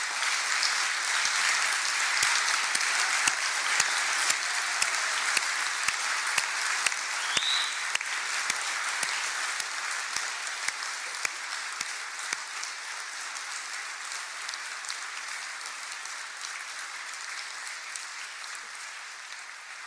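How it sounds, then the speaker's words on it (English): Sustained, dense audience applause for educators at a Kansas State of the State address, a steady broadband roar of many hands clapping throughout, gradually easing near the end with no speech. "round of grateful applause"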